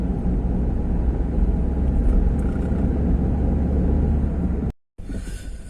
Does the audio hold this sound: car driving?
yes